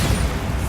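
A Bombarda blasting spell going off in Hogwarts Legacy: a short, loud, dense burst of booming noise with heavy low rumble, close and filling the moment on its own.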